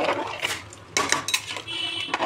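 A spoon stirs chicken khichdi in a pot, clattering and scraping against the metal in short, lively bursts, close by.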